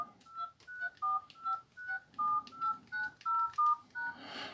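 Keypad tones from a Nokia Asha 300 phone as its keys are pressed: a steady run of about a dozen short, clear beeps at a brisk, even pace, close and fairly quiet.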